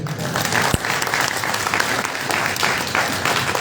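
Loud, dense applause from an audience at a Gandhi Jayanti ceremony follows a speech, steady rapid clapping that fills the whole few seconds close by, with a brief thump near the start.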